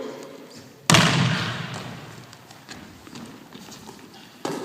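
An explosive push-up on an upside-down Bosu ball during a basketball training circuit: one sharp, loud thud as the hands hit, then a fading rumble and a lighter knock near the end.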